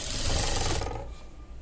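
A sewing machine stitches over a fabric joint in a short, rapid whirring burst that runs close and clear, then cuts off and leaves near silence.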